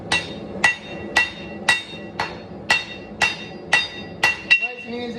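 Hammer blows on hot damascus steel during hand forging ring out about twice a second, nine sharp metallic strikes in an even rhythm, close and clear.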